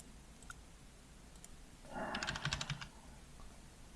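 A short burst of computer keyboard typing at a PC, a quick run of close clicking keystrokes lasting about a second amid quiet room tone, with no talking.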